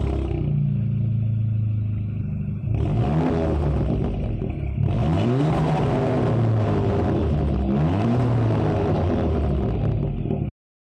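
An Audi TT with a loud exhaust revving while driving: a deep rumbling drone with repeated rising engine sweeps through gear changes, close and steady, with no talking.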